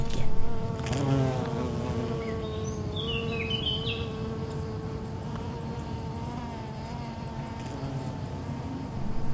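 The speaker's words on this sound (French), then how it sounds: "Les insectes reprennent leur grand travail de pollinisation. Ils butinent les fleurs délicates du matin au soir." Bees and other pollinating insects buzz steadily around flowers in the garrigue, overlapping drones close by with a few faint bird calls in the background.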